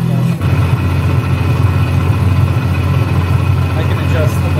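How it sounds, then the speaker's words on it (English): A simulated car engine plays from the sound system of a stage prop car in a theatre, a steady low idling hum at constant level running throughout, close and fairly loud. "I can adjust the volume of the engine in case we need a part where the actors are a little bit quiet"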